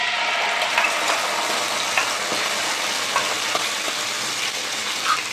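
Sauce paste sizzles steadily in a hot frying pan while cooking chicken 65, a continuous close frying hiss with occasional small spatters and stirring clicks.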